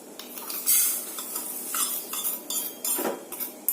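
Sugar being stirred in a pan on a gas stove to caramelize it, with repeated scraping and clinking of a utensil against the pan bottom, close and fairly loud, in uneven strokes with no talking.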